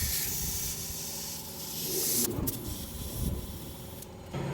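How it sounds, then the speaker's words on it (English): Compressed air hissing into a tire through a newly replaced valve stem, a steady broadband hiss that stops abruptly twice in short gaps before resuming, close and fairly loud with no talking. "Let's get some air on it and see what happens."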